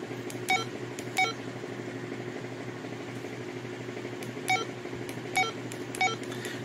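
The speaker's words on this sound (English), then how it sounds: "even the beeps for being all the way up" Baofeng UV-S9 triband handheld radio giving short electronic menu beeps, about eight separate chirps spaced irregularly over a steady low hum, fairly faint, with no talking.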